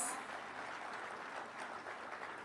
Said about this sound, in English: Let's give them a better round of applause.